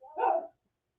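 A single short bark from a very old dog with a tumor who can no longer walk, close and fairly loud, cutting off abruptly into silence.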